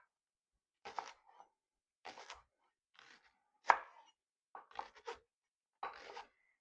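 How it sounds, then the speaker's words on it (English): Knife chopping leeks into half moons on a cutting board, heard as six short, crisp bursts of blade strikes spaced about a second apart, close and fairly quiet with silence between. "And then I cut it into my half moons"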